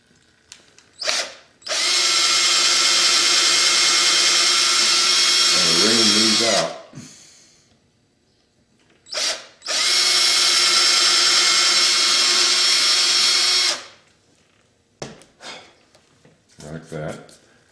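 A power drill bores into a carved wooden cowboy boot in two long, loud whining bursts separated by a pause, with short clicks and a brief voice around them.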